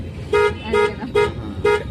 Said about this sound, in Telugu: రైట్ హార్న్ కొట్టండి